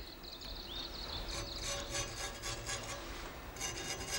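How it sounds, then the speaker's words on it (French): Soft, steady rubbing and scraping as a katana smith spreads a mixture of black clay, pumice powder and ash over the steel blade, close and quiet with faint rhythmic strokes. "Je recouvre la lame avec de l'argile noire pour donner au tranchant de la lame une ligne de trempe"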